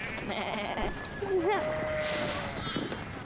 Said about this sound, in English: Yo, sheep.